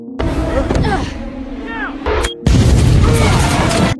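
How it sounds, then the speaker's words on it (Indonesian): A loud, sustained blast from a suicide bombing that shakes a building, with booming rumble and crashing debris, preceded by chaotic noise and voices in the background. "Snyder melakukan serangan bunuh diri dengan ledakan yang mengguncang bangunan"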